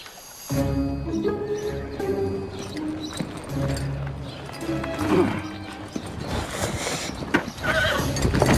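Horses clip-clop steadily throughout, with whinnies and neighs rising over the hooves, fairly close and busy.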